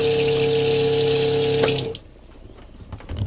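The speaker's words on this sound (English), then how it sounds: "Now we have a bigger pump. And then we've got the Aqua King. This thing puts out 50 psi." An Aqua King fresh water pump on a sailboat runs with loud rushing water and a steady tonal hum, then cuts off abruptly, leaving quiet clicks and faint handling noise.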